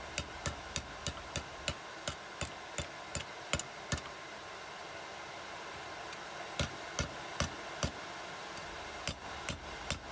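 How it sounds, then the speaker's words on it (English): Steady metallic hammer strikes from a small hammer forging a knife edge from scrap metal ring out in a regular rhythm, close and sharp, with a brief pause before the tapping resumes. "just getting that edge down using the smaller hammer."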